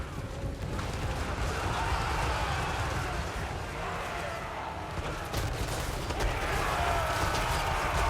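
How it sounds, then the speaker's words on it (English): Hand cannons fire in a Total War: Warhammer 3 battle, a dense roar of gunfire and battlefield noise that holds steady throughout at a moderate level. "good hand cannon action there"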